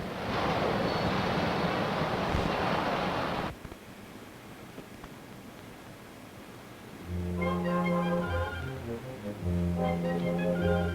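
Water gushing hard from an open valve, a loud broad roar for several seconds that cuts off abruptly, followed by quieter rumble and then swelling orchestral film music.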